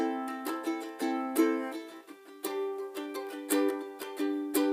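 Ukulele chords strummed in a quick, steady rhythm, bright and close, moving through the short repeating bridge progression of a song with no talking.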